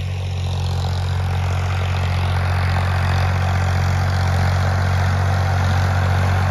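A 2018-model farm tractor with 1100 hours on it idles nearby, a steady low diesel drone with an even throb and no pauses, heard alone.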